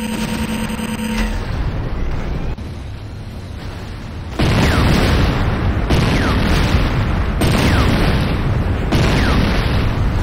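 The Nod Airstrip in Command & Conquer Renegade is destroyed, with a loud, close, rumbling explosion that swells and keeps booming in repeated heavy bursts, preceded by a short stretch of quieter game noise.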